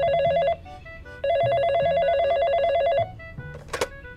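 A telephone rings after a number is dialed, with two long bursts of a bright warbling electronic ring separated by a short gap. It is loud and close and ends in faint clicks and handling noise.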